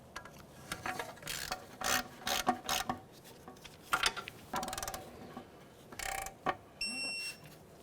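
Ratchet driving a 10mm bolt on a front ABS wheel speed sensor of a 2009-2010 Pontiac Vibe, heard as short bursts of quick, close clicking strokes separated by brief pauses, with no talking.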